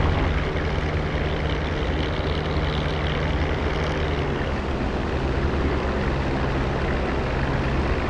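A small training airplane rolls down the runway, its engine and propeller making a loud, steady drone with a low tonal hum that holds evenly throughout, with no voices.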